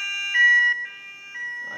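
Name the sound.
fire alarm sirens triggered by smoke detector test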